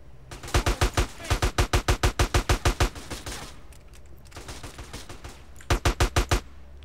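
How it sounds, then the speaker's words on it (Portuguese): Gunfire in the video game GTA San Andreas: rapid automatic bursts of loud shots in quick regular rhythm, a long burst then a pause and another short burst, close and dominant. "Tô levando muito tiro."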